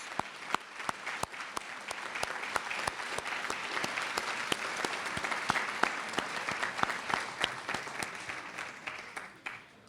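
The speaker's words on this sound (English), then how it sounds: "Please join me in a round of applause for Dick and Ann Phelps." An audience claps steadily at an elementary school grand opening, with sharp individual claps over a dense, sustained round of applause that fades near the end.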